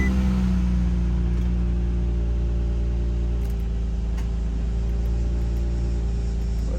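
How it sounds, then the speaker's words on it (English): A 2004 Infiniti G35X engine idles with the air conditioning running, a steady low hum and rumble holding constant and close throughout, with no other noise. "now this is me turning the car on and turning the AC on to see if it makes noise."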